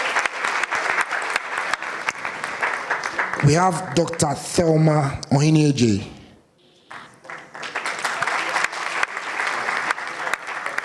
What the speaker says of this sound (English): Please welcome Dr. Anita Opon with a round of applause.